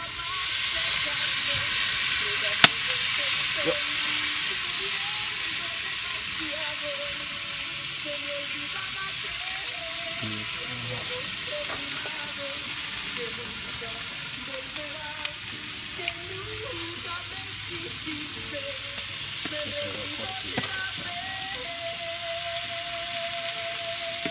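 Bell pepper, asparagus and onion sizzle on a hot grill while salmon is smoked, giving a steady broad hiss with faint pops and a low hum running throughout.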